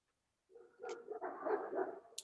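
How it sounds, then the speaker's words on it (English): A dog barks somewhere behind an open line on a city zoning board conference call, a few muffled yaps and a whimpering bark, moderately distant and compressed by the phone audio. "still got a dog in the background somewhere"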